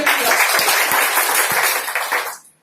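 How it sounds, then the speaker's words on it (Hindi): An audience applauds at an indoor business seminar, a dense burst of clapping that holds steady for about two seconds and then quickly dies away. "हाँ ताली हो जाए"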